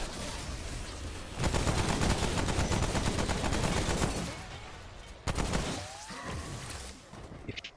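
Rapid bursts of gunfire in the video game Remnant: From the Ashes, dense and loud, rattling almost continuously with a few sharper single shots and faint whistling tones near the end.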